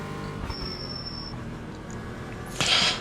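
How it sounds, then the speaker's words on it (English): Cold brakes on a GT4 race car in the iRacing sim give a faint, thin high squeal that holds for under a second, then a brighter, louder squeak near the end over steady engine and tire drone. "hear those squeaky brakes? A real solid squeak to them, letting you know that they're cold"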